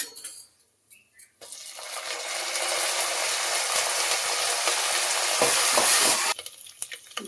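Curry leaves and peanuts, with chana and urad dal, hitting hot oil in a pan for semiya upma, giving a loud, steady sizzling hiss that starts abruptly after a second of near quiet and runs for about five seconds before tapering off.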